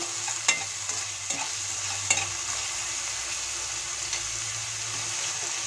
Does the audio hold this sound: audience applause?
no